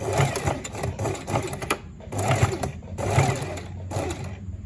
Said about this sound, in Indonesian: Kita turunkan sepatu mesinnya. Jangan lupa kita kunci jahitan.